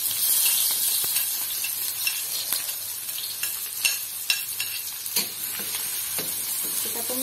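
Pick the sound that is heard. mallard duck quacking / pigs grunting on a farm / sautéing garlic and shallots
sautéing garlic and shallots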